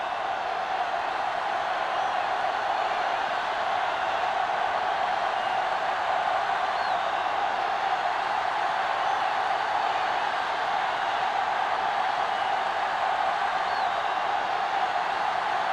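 A steady roar from a stadium crowd at a video game football match between Carolina and San Francisco, a constant dense wash of many voices with no breaks, held at an even level throughout.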